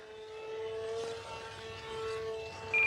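Small E-flite Waco UMX radio-controlled biplane flying nearby, its tiny electric motor giving a thin, steady whine that drifts in pitch as it passes, ending with a sharp high alarm tone.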